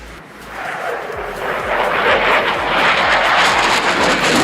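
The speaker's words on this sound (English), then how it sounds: "the Typhoon has regained new energy, flowing into a precise, slow loop" A Eurofighter Typhoon jet flying a slow loop at an airshow produces a loud, swelling roar that builds over the first seconds and then holds as a broad, powerful rush of engine noise.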